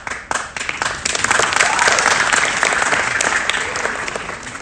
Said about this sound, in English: I told you, I love applause.